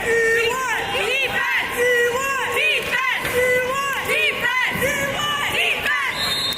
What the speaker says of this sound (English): There are the girls cheering on the boys for some defense.